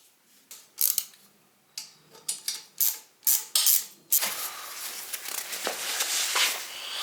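Extended bolts being fitted on the intake of a YSR50 mini bike with a 12mm spacer: a series of sharp close ticks and ratchet-like clicks, then a steadier rasping, creaking run of tool noise.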